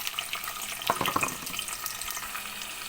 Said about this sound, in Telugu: ఆయిల్ కాగిన తర్వాత టమాటా, ఉల్లిగడ్డ ఇలా వేసేసుకోవాలి.